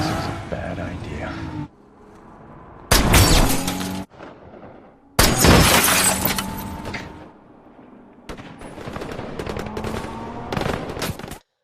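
Bursts of enemy gunfire in a war film scene, loud rattling volleys and sharp shots arriving in several separate bursts between quieter stretches, with other action noise mixed in.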